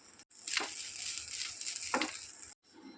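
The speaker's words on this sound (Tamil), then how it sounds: "மறுபடியும் அதே ஃப்ரை பேனை அடுப்பில் வச்சு நம்ம எடுத்து வச்சுருக்க தேங்காயை சேர்த்து வறுத்துக்கலாம்" Coconut dry-roasting in a frying pan on a low stove flame gives a soft, steady sizzle, broken by a couple of scraping stirs, with a brief hush near the end.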